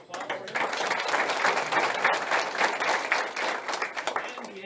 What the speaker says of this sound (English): we can certainly applaud for him.